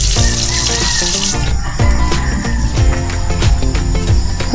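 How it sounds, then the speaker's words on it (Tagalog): Water gushes strongly from a sink tap at a hillside nature campsite, a loud continuous rush with no talking. "Malakas naman ang tubig."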